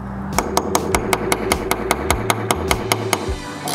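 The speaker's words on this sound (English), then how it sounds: "you want to tap with a hammer in there first." Hammer taps on painted bolts during the final stage of a Ford Bronco rebuild, a steady series of about fourteen sharp, evenly spaced metallic strikes, close and clear over low background noise.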